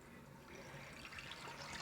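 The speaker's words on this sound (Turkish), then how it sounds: "Böyle bunun altına açıyoruz şimdi suyu" A tap turned on runs water in a steady broadband rush, moderately close, with no talk over it.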